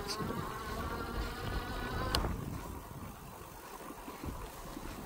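Cyrusher Ovia electric bike motor running on throttle only in a garden, a steady insect-like whine and buzz that holds at moderate loudness for several seconds with a brief sharp click midway.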